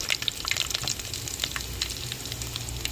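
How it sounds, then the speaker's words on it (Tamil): Mustard seeds, curry leaves and dried chillies sizzle in hot oil, a close, steady frying hiss peppered with quick crackles and pops from the seeds. "எண்ணெய் சூடாயிருச்சுங்க, கடுகு போட்டுக்கிறோம். 2 கருவேப்பிலை போட்டுக்கிறோம். 2 வத்தல் சேர்த்துக்கிறோம்."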